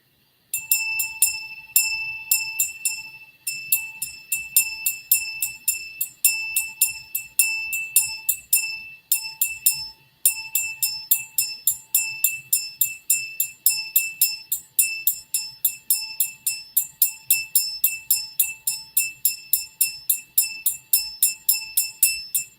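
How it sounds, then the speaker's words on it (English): A bell is struck again and again in a fast, even rhythm for over twenty seconds. Each ring is bright and close and decays quickly, with a couple of short breaks in the run of rings. "So let's do the bell for the kids."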